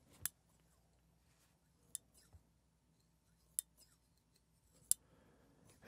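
Tailor scissors snipping four times, each a sharp, crisp metallic click spaced about a second apart against near silence, quiet and close up.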